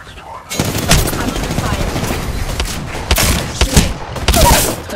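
Gunfire in a battle royale video game: loud, sustained bursts of rapid shots with sharp cracks layered over one another, close and dense throughout, with game effects mixed in.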